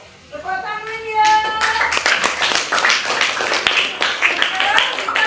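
Hands clapping in applause fill a classroom, a dense, loud patter of many people that starts sharply and carries on steadily, with a few sung or spoken notes in the first second.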